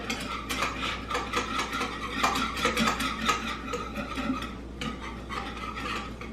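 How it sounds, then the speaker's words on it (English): Whisk stirring keto barbecue sauce in a pot on the stove, a steady scraping and clinking of metal against the pan with continuous rhythmic strokes, close and fairly loud. "I've got a whisk here, and I'm just going to constantly stir it to make sure that everything gets mixed in there good"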